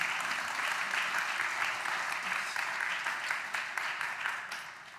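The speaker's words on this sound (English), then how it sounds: "a round of applause, please, for the three" An audience at a talk on art and creativity applauds steadily, a dense wash of clapping that holds for the whole stretch and slowly fades toward the end.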